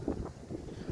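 Wind gusting outdoors across a farmyard, a broad low roar buffeting close to the microphone for under a second, with no voices.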